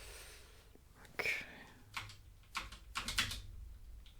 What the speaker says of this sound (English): Let me plug in my trusty mechanical keyboard.